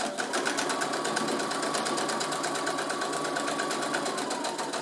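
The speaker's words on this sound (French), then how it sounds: "Je suis en place pour ma couture. J'oublie pas mon point d'arrêt au début." A sewing machine stitches fabric for a tote bag's lining, a steady, fast, close mechanical whirr with an even pulsing rhythm that runs without a break, and no voices.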